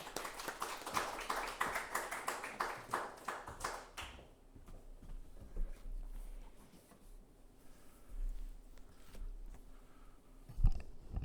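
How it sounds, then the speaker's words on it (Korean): A church congregation gives a brief round of warm applause at a Wednesday worship service to welcome the preacher, clear for about four seconds and then fading to scattered taps and quiet room noise. "따뜻한 박수로 모시겠습니다."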